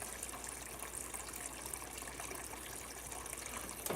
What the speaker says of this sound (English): I'm filling up a pot of a lot of water